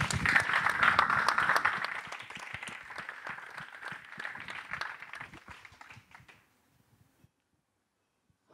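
Audience at a talk gives a round of applause, a crowd of hands clapping fairly close, loud at first then thinning to scattered individual claps before fading into silence.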